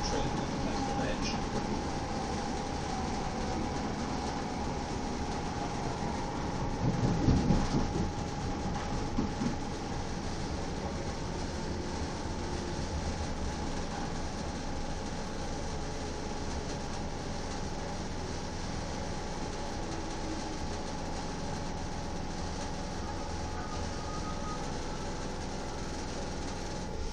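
Steady rumble inside a passenger train riding from Billericay toward Wickford station, constant low cabin noise with a brief louder clatter partway through and muffled talk at times.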